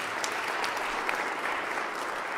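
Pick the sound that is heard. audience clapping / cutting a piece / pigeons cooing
audience clapping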